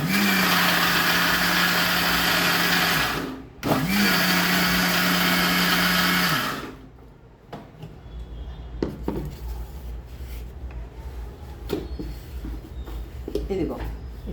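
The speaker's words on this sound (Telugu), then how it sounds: "ఇదిగో ఇట్లా మిక్సీ కొట్టుకోవాలి." A kitchen mixer grinder whirs loudly while blending cooled ingredients for a tomato pickle, running in two bursts with a brief pause, then stopping, followed by quieter clatter and handling noises.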